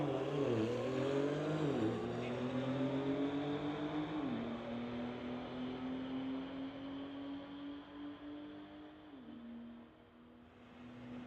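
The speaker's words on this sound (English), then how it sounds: "Iqbal running the 2014 Q50 going against Paul in his Porsche." A 2014 Infiniti Q50 and a Porsche street drag racing at a strip, engines droning and climbing through several gear shifts as the cars pull away, loud at first and then slowly fading into the distance, with no talk.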